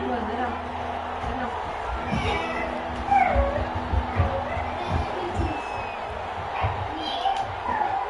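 A stadium crowd in a PS4 American football video game roars and cheers in a steady broad wash, with swells and whoops rising over a continuous background din.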